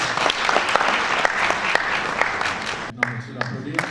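Applause fills a hotel conference hall at an agricultural development meeting, dense steady clapping from a large audience that thins near the end as a voice begins speaking over it.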